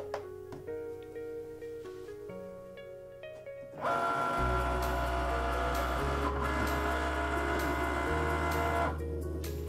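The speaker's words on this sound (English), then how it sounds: "click the C button again and the maker will do another pass" A Cricut Maker engraving a metal jewelry blank: quiet motor clicks, then a loud, steady buzzing whine with a constant drone underneath as the engraving pass runs.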